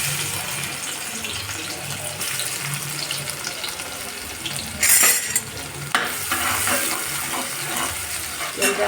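Garlic dropped into very hot oil for a prawn masala, sizzling and crackling steadily and close, with a brief louder burst of spattering partway through as it fries.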